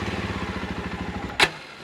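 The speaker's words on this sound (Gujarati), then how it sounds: "તમને સાઉન્ડ સંભળાવી દો બાઇકનો." A 2024 Jawa 42 Bobber motorcycle idles close by with an even, rapid thumping beat, ending in a sharp brief click or pop near the finish.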